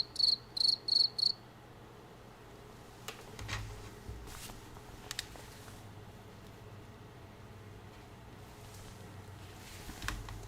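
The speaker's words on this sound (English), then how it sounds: "I hear crickets." Four quick, shrill cricket chirp bursts sound close together at the start, then give way to a quiet hiss with a few faint thumps and clicks.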